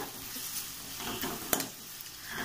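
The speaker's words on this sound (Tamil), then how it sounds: "வெங்காயம் பூண்டு வதங்கிருச்சு தக்காளி சேர்த்துடலாம்" Onion, garlic and tomato sauté in a pan for a mango and dried fish curry: a fairly soft sizzle with stirring scrapes and a single sharp clink of utensil on pan, no talking.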